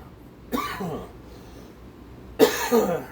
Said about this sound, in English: coughing because I stirred up the burn barrel and got some ash in my lungs